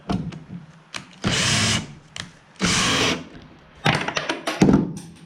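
Power drill driving and countersinking a screw into wood for an automobile ramp, several loud whirring bursts separated by short pauses and thunks, close up with no talk.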